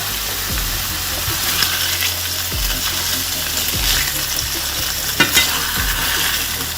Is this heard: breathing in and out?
no